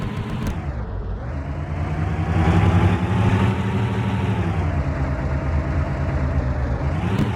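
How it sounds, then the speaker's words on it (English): A truck in a video game idles with a steady mid-pitched engine drone that swells slightly and then holds, continuous and close throughout with no talk. "This truck is a pain in the butt."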